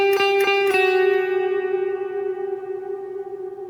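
An electric guitar played through a Line 6 POD Go reverb with pre-delay: three quick plucked notes ring out, then one sustained chord decays slowly into a long, spacious wash of reverb, alone with no talking.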